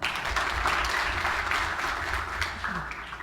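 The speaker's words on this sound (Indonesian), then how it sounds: "tepuk tangan saudara" A church congregation applauding during an ordination service, steady clapping that begins loud and gradually tapers off.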